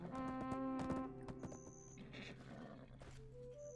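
A horse whinnies in the Black Desert Online game, a clear tonal neigh early on, followed by game sounds and chime-like effects at moderate level.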